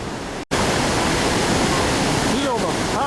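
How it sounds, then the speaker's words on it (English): A powerful waterfall roars at the end of a hiking trail in South America, a loud, steady rushing wash that breaks off for an instant near the start, with faint voice-like tones rising near the end. "Feel the power of that waterfall."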